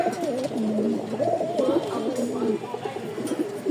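A pair of Rajshahi Giribaz pigeons cooing close by, a steady run of throaty, warbling coos that overlap and repeat without pause over a faint background hiss.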